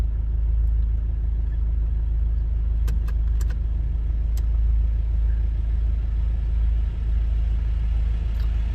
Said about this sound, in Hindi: इसके पीछे एक और गाड़ी आ रही है